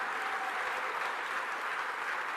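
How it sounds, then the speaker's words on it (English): An audience at a governor's address to an association breaks into dense, sustained applause, steady and moderately loud throughout. "let's give a round of applause to the Secretary to the Governor"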